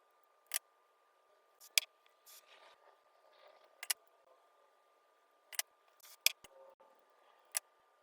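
Scissors snipping through a wig while it is styled for a Princess Aurora costume, about eight sharp isolated clicks spread irregularly over quiet, close and crisp, with faint rustling between and no speech.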